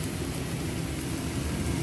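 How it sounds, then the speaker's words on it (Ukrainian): Chicken fillet marinated with garlic, soy sauce, olive oil and spices fries in a pan, giving off a steady, dense sizzle that stays even throughout with no talking. "Зараз я його обжарюю"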